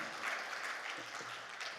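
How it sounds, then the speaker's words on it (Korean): A church congregation at an evening service in a Korean fasting prayer retreat applauds, a soft, dense wash of many hands clapping steadily at a distance for under two seconds. "하나님 영광의 박수 올려드립니다"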